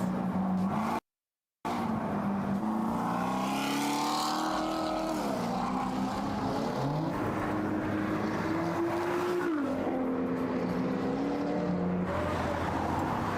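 Fast race cars roar past at a Turkish race event, engines revving and pitching up and down in long sweeping passes, loud and continuous with brief dropouts.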